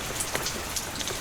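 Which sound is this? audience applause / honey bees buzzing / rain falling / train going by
rain falling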